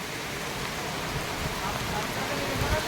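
Heavy rain pours steadily in a downpour, a dense, even hiss that flows through the scene without letting up, fairly close, with no voices over it.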